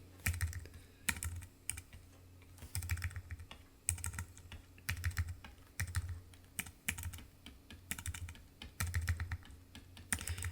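Quiet typing on a computer keyboard at a desk comes in short irregular bursts of crisp key clicks separated by brief pauses, close and alone.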